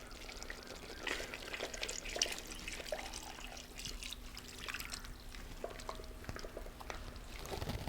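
Coconut milk, about one and a half cups, poured into a chicken mappas curry in a pan over low heat, giving a faint, continuous liquid trickle with small splashes for several seconds.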